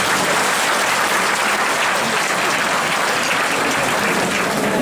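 Sustained applause from a large audience at a talk concert fan meeting, a dense, steady wash of clapping that stays loud and even from start to finish with no voices standing out.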